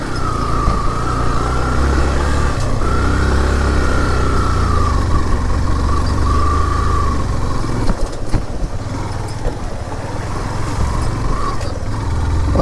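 A KTM motorcycle engine drones steadily and loudly while riding an off-road mountain road, the motor labouring uphill with a sustained rough rumble and shifting pitch, with a rider speaking briefly over it.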